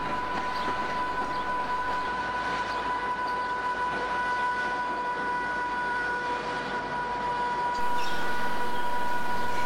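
Class 85 electric locomotive 85007 propels a rake of Mark I coaches into a platform at London Euston in the 1980s, giving a steady, continuous hum with high whining tones that holds level and grows slightly louder near the end.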